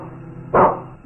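Police dog giving a single sharp bark, loud and close, over quiet background.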